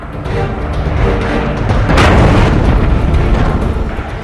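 A loud, rumbling bomb blast from about a thousand kilograms of explosives roars out and sustains, with a sharper burst near the middle and a dense, noisy roar throughout.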